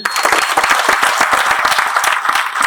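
A loud, sustained round of applause from an audience at a team meeting, dense clapping filling the whole stretch at steady intensity.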